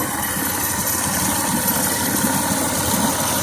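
A DC generator's small engine runs steadily at idle, a constant low, even drone with light vibration, quieter than before and heard alone throughout.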